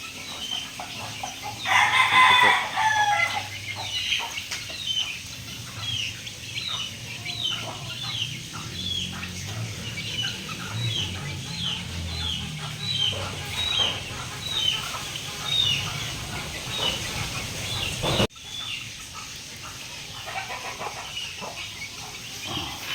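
Chickens and small chicks clucking and peeping in a backyard coop, with a rooster crowing near the start and scattered chirps continuing over a soft farmyard background throughout.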